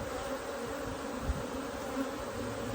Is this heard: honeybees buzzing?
yes